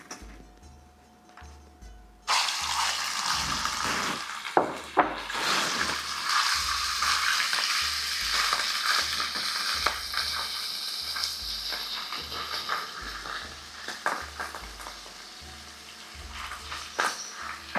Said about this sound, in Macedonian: ќе го ставиме прво месото да се пржи